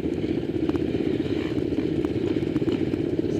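A trail motorbike idles close by during a charity trail ride in Featherston, a steady low rumbling engine with light mechanical clatter throughout.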